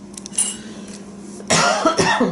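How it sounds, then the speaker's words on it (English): A couple of sharp coughs burst out near the mic after a quieter stretch of low steady hum and faint handling noise. "Excuse my coughing."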